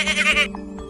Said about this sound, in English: Goat. A goat like to eat grass.